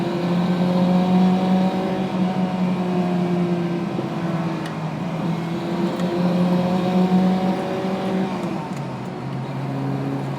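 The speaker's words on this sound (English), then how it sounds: "I think it really sounds like a little sports bike engine because that's what it really is." Small 1960s Honda S600 coupe with a high-revving four-cylinder engine, humming steadily and close, rising and falling gently through the revs as it drives.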